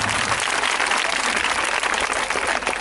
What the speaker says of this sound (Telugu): గట్టిగా చప్పట్లు కూడా ప్రభువుని మహిమపడతాం.